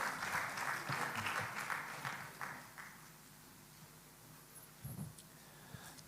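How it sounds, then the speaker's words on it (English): Audience applause at a gas distributors' business forum, fairly faint and brief, fading out after a few seconds into quiet room noise with a few scattered claps and murmurs. "Give them one more round of applause"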